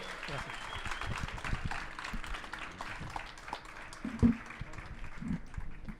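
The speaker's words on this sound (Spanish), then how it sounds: "Un fuerte aplauso, por favor, a Ernesto." Audience at a book presentation applauds an author, a fairly faint, patchy round of clapping with a voice speaking over it and a sharp thump partway through.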